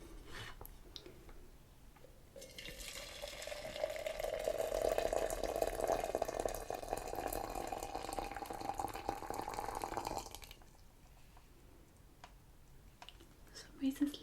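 Freshly boiled water pours steadily for several seconds into a cup in a quiet close-miked setting, a soft continuous trickle with faint handling sounds on either side.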